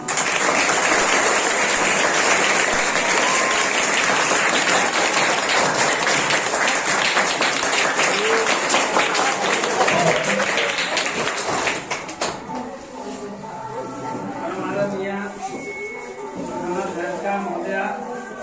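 Loud crowd applause from teachers and students at a school celebration of Dr. B. R. Ambedkar's 131st birth anniversary, dense clapping for about twelve seconds that then thins into scattered claps as voices and chatter take over.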